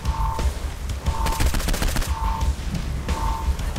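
Rapid bursts of assault rifle fire in the video game Saints Row IV, loud and close, in repeated volleys over a constant background of in-game noise and a recurring electronic tone.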